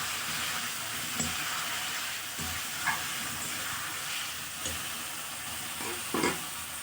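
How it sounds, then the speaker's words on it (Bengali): Mutton sizzles steadily in a pan as it releases its oil, a dense, close frying hiss with occasional brief stirring scrapes, no talk. "মাংসতে তেল ছাড়তে লেগেছে।"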